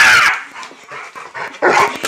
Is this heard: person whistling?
no